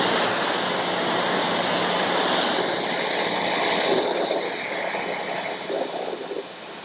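Water drenching and rinsing off beaded, coated car paint, a loud continuous rushing spray that eases slightly toward the end, close up and with no talk.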